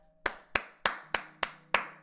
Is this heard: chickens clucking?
no